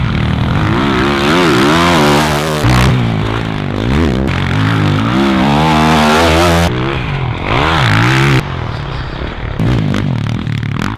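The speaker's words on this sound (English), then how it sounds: "I've been out riding the YZ450F a handful of times now" A Yamaha YZ450F motocross bike revving hard on a dirt track at a motor park, its engine pitch climbing and falling in repeated loud gear-shifting sweeps, close and continuous with no talk.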